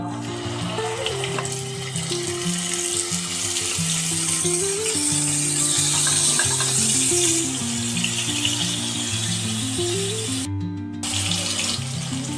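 Hilsa fish sizzling in hot mustard oil in a heated kadai, a loud, steady hiss that holds throughout, with melodic background music layered over the frying.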